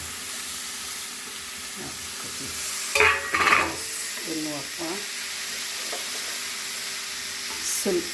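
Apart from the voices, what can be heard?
ridge gourd sabzi frying and being stirred in a pan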